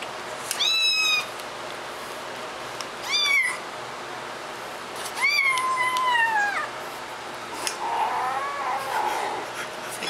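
A kitten guarding her food lets out several drawn-out, wavering growling yowls, close and fairly loud, separated by short pauses, ending in a lower rumbling grumble.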